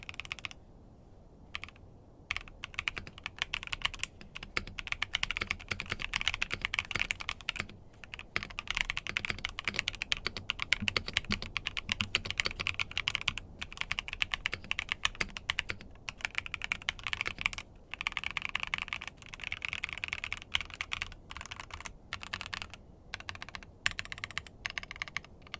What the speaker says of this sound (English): with everything put together, let's finally get a new sound test in.